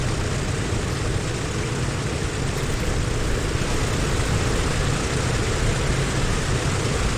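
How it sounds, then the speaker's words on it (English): A DC-6 airliner's number 1 engine starting in Microsoft Flight, a dense, loud, steady roar of radial engine and propeller noise filling the whole stretch without pauses or voices. "ready for engine number 1 to start, so here we go."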